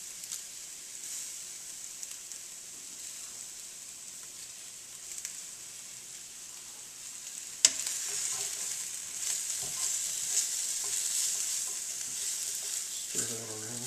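Pepper steak fries in a pan with a steady sizzle, growing louder and busier halfway through as the meat is stirred around, with occasional scraping clinks near the end.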